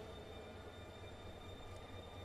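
A train in The DarkSide Detective video game rumbles steadily, a low continuous rolling drone with a faint high whine, even and unbroken for a couple of seconds, quiet and without voices.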